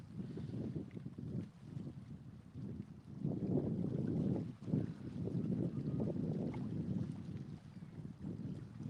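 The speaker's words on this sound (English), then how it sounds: "wind's starting to pick up again" Wind gusting over a cold lake during a catfish fishing trip, a low rumbling buffet against the microphone that swells and eases in surges, close and continuous.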